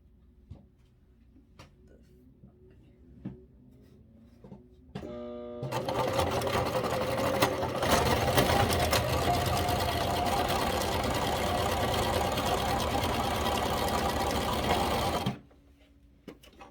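A sewing machine stitching a hanging kitchen towel, starting with a few light clicks and a brief slow start before a loud, steady run of fast stitching that lasts about ten seconds and then stops abruptly.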